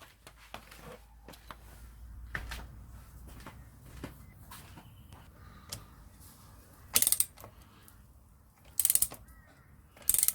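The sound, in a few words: wrench tightening a motorcycle X-ring chain link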